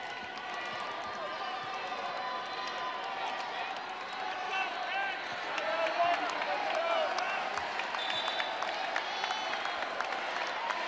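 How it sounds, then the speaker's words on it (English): Volleyball crowd in an ACC match arena cheering steadily to rally the Pittsburgh Panthers, a dense continuous roar with scattered claps that swells slightly partway through, heard alone at a moderate distance. "You can hear the crowd really trying to rally this Panthers team."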